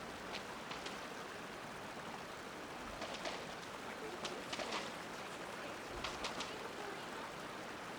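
Soft, steady rush of flowing water forms a continuous ambient bed in Genshin Impact, with faint chirpy high accents and a distant voice murmuring underneath.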